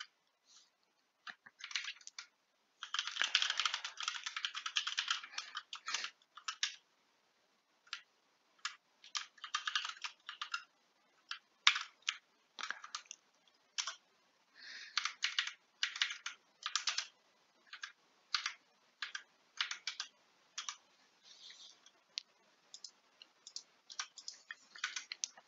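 Someone types JavaScript code on a computer keyboard, with quiet, close bursts of rapid key clicks separated by short pauses.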